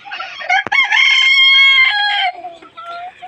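A white short-legged bantam rooster crows loudly in a dim farm coop among breeding hens, one long drawn-out call with clucking and a sharp knock just before it, close to the microphone.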